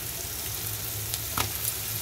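Shrimp fry with onions and salt in a pan, a dense continuous sizzle heard up close, with a couple of brief scraping stirs partway through.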